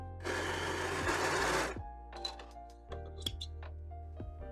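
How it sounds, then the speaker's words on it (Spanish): An overlock sewing machine stitches elastic in a fast, loud burst for under two seconds. Close-up clicks and clinks of handling the fabric follow, with no talking. "mientras vamos cosiendo vamos estirando muy bien el elástico y teniendo cuidado de que las cuchillas de la overlock no vayan a cortar el elástico"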